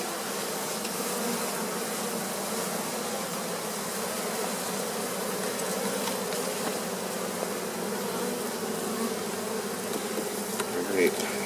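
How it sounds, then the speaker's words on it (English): A steady, dense hum of many honey bees swarms around a Flow Frame hive during an October honey harvest, continuous and close throughout. "Oh, I got bees on me."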